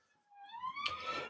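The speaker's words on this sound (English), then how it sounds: "That siren in the background is hopefully not somebody stealing the Frank Sidebottom statue" A police siren wails in the background, rising in pitch from faint to moderately loud before merging with broad noise.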